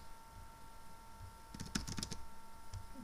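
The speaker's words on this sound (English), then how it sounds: "And now let's type in here" A computer keyboard gets a short quick burst of typing, faint and close, with a few light keystrokes in a quiet room.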